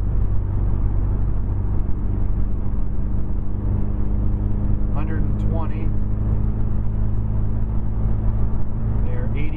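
Steady low drone from a 2010 Mazda 3 GT 2.5 fitted with TRZ motor mounts, climbing a hill in sixth gear: a constant loud cabin rumble with tonal hum, plus a brief rising whine partway through.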